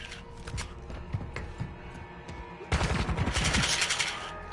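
Rapid SMG gunfire in a video game, a dense burst of fast shots that rises sharply partway through and keeps going to the end, with busy game noise before it.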